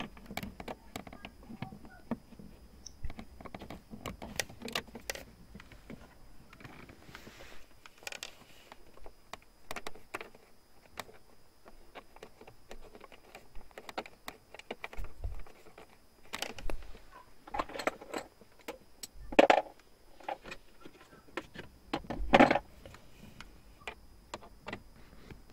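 Plastic cover and two screws being refitted on an Opel Zafira gearbox: scattered soft clicks, taps and light plastic knocks at close range, quiet and irregular, with a few sharper ticks toward the end.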